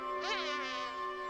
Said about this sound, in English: Buzz off, fly.